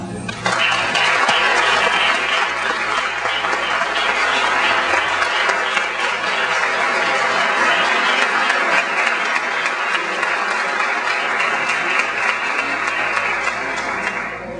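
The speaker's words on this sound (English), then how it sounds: "give Harlan a real big hand of applause" An audience at a Caribbean Latino business showcase expo stands and applauds for Harlan, sustained dense clapping that stays loud and steady throughout, with no speech over it.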